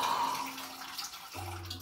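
Water spilling out of bowls during a stage magic trick, a soft running splash and trickle that cuts off partway, followed by a low hum.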